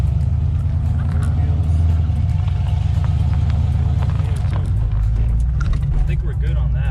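Wide body C6 Corvette rolling slowly through a U-turn, its engine a loud, steady low rumble heard from close by, with no scraping or other breaks in the sound.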